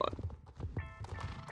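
Horse hooves clip-clopping in a horse-riding video game, a quick run of rhythmic hoof beats with a brief whinny, steady and close in the mix.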